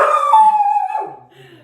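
Dogs barking and howling in the background during an outdoor yoga stretching session: a drawn-out, wavering howl that slides downward over about a second, then trails into fainter yelps.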